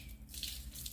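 Cold water sprays steadily from a hose onto a dirty motorcycle during washing, a soft continuous hiss that stays faint and even throughout.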